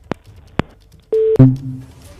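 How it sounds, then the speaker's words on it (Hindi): A telephone line cuts off: two sharp clicks, then a brief electronic tone, a loud clunk and a short buzzing line tone that fades out, fairly loud and close. "फोन कट गया है उनका।"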